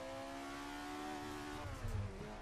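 The 2-liter flat-plane-crank V8 of a 1967 mid-engine Alfa Romeo 33 Stradale revs high and steady in Assetto Corsa, a loud sustained engine whine that dips briefly as a gear shifts.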